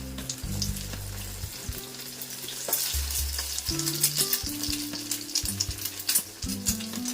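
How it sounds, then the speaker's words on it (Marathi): Bread slices dipped in an egg mixture fry in hot oil in a pan, giving a loud, continuous sizzle with crackling pops and occasional stirring or scraping, close up and with no talking. "आणि तो ब्रेड आपण या तेलावर सोडणार आहोत।"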